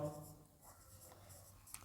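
Pen writing on paper during a maths lesson, faint scratchy strokes in quick irregular bursts, close and quiet with no speech over it.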